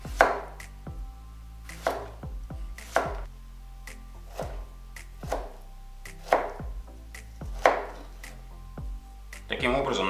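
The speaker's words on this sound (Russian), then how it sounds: "Огурец нам нужно нарезать сначала на ломтики, а потом нарежем на" A knife chops a cucumber into slices and then sticks on a cutting board, giving sharp, close knocks at an uneven pace, about ten strikes with pauses between them.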